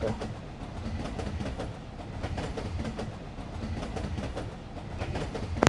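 A train in the video game Dead Rails runs steadily with a rumbling, rhythmic clatter of wheels over track, continuous at moderate volume with no speech over it.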